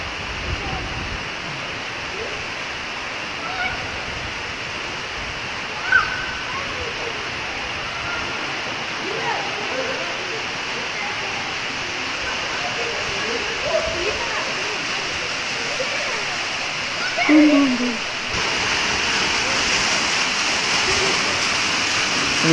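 Water rushes and splashes at the Meiringspoort waterfall in a steady, broad roar, with people's voices and a few brief splashes rising faintly over the constant flow.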